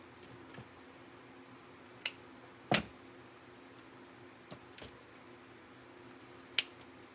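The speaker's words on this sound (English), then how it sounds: "this ribbon tail so I know how short and how long to cut it" Scissors snipping a ribbon tail for a gnome-themed front door wreath: a handful of short, crisp isolated cuts spread apart, close and fairly quiet over a faint room hum.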